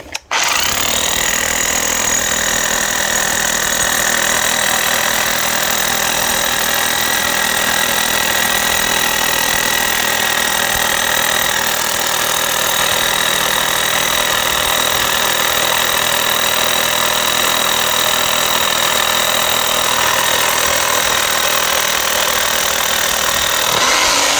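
An engine-driven boring machine drills horizontal holes for a retaining wall, running as a steady, loud mechanical drone that holds constant for the full stretch with no voices over it.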